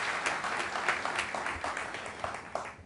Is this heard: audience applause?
yes